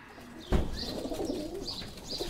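A pigeon coos in short throaty bursts after a brief thump, with faint chirps overhead, set as an effect in a spooky Bengali village ghost story.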